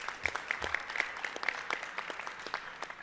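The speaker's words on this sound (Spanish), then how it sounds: "Aplausos, por favor." Audience applause at a weekly political assembly, a short burst of steady clapping from a crowd in a hall, moderately distant and fading slightly toward the end.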